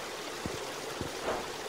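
Rising water in the Escape Academy video game gives a faint, soft trickle with a couple of low, brief gurgles near the start and middle.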